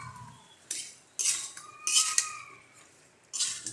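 A utensil stirs pangas fish khichuri with pointed gourd in a metal pot, giving a few separate metallic scrapes and clinks at close range.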